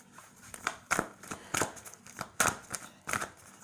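A deck of tarot cards is shuffled by hand, a quick series of crisp riffling snaps and flicks in an irregular rhythm, close and fairly clear.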